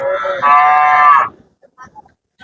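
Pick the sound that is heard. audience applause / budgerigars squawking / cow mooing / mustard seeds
cow mooing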